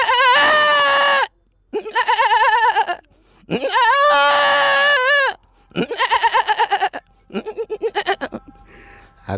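A man imitates a goat with his voice, giving a series of loud, wavering bleats broken by short pauses and ending in quicker, choppy bleats.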